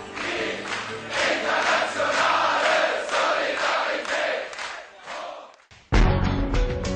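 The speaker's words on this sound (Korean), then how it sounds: "해마다 5월 1일이면 인간답게 살기 위한 노동자들의 함성이 전 세계에 울려 퍼진다." Crowd of workers at a May Day labor rally shouting together in loud, surging roars with rhythmic swells, sustained for several seconds before a brief drop and a new burst of noise.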